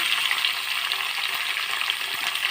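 Onion, green chilli and tomato pieces frying in a pan for a gongura egg pulao make a dense, even sizzle, close and continuous, with no talking.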